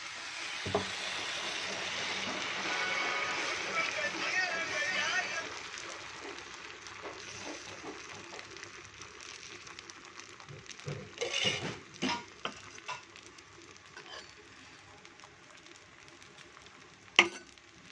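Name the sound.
onion uthappam batter sizzling in oil on pan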